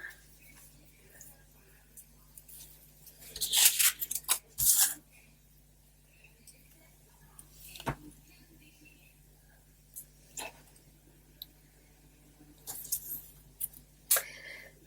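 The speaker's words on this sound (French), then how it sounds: "Ciseaux." Scissors snip paper for a scrapbooking tag, making several short, close crisp cuts spread out in small clusters amid quiet rustling and soft whispering.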